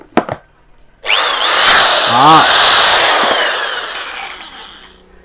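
A Makute power drill runs under test, loud and steady at full speed for about four seconds after a short spoken word and a click, with a high whine before it tapers slightly toward the end.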